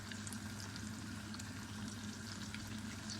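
Spiced, masala-coated fish frying in hot oil in a pan, giving a steady, dense sizzle with a constant crackle and a low hum underneath, heard alone and close up.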